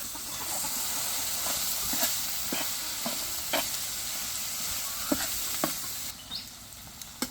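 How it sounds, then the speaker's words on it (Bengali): Okra frying together with onion and green chilies in an uncovered pan gives a steady sizzling hiss, with a few sharper scrapes and clicks of stirring scattered throughout. "যে ঢেঁড়সটা ভাজি করতেছি"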